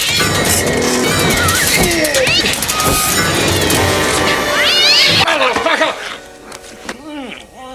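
A cat yowls and caterwauls in a horror film scene after being shoved into a grill, long rising wails over a busy dramatic mix, then sharper separate meows as the noise drops away.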